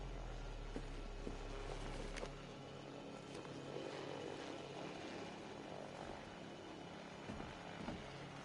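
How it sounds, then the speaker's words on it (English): An unmanned military drone flies in a Batman video game. It makes a steady, dense mechanical drone with rotor-like whir, continuous for several seconds with faint clicks and no voices. "Those soldiers are using an unmanned drone."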